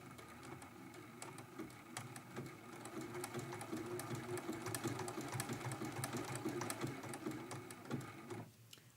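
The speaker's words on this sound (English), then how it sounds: "We're going to go ahead and stitch that down first." A sewing machine steadily stitches down a fabric appliqué shape on a quilt block, running continuously for about eight seconds at a moderate level before stopping abruptly near the end.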